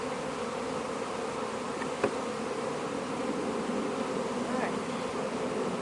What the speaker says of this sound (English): there's so many airborne bees